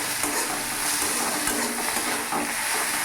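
Chicken masala with chopped tomatoes is stirred in a pan over a medium gas flame, giving a dense, steady, close sizzle with soft stirring scrapes throughout, with no talk.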